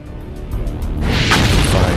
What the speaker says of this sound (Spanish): 5 blancos directos, unos disparos muy certeros.